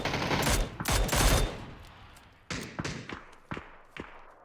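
Rapid bursts of gunfire in the battle royale video game PUBG, several close volleys of sharp cracks followed by scattered single shots and thuds, with no talking over them.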